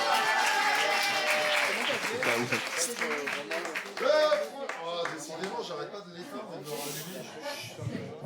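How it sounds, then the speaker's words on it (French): An audience at a slam poetry tournament applauds, a dense wash of clapping at the start that thins and fades, with a host talking over it. "On applaudit la main innocente également."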